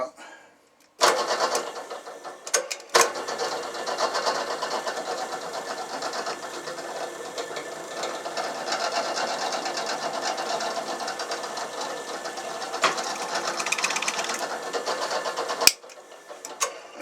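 A drill press bores a hole through a pipe held in a clamped table guide, a steady whirring grind running about fifteen seconds, starting abruptly after a short pause and ending with a sharp stop.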